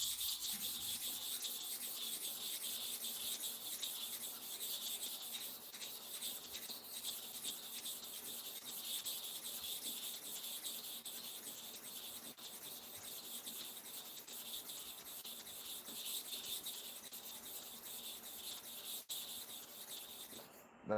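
A faint, steady scraping rub continues for about twenty seconds as the bottom blade of a barber's hair clipper is sharpened by hand against an abrasive surface.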